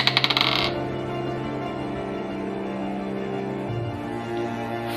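Several cheap dice clatter onto a tabletop during a miniatures tournament game, a quick burst of rattling hits at the start that settles fast, followed by a quieter background hum.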